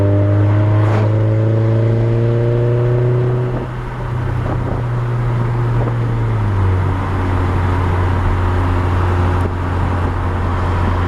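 A VW GTI with an APR 3-inch downpipe and straight pipes drones loudly around 3,000 RPM, the exhaust note dipping as the DSG gearbox shifts midway, then settling into a steady hum.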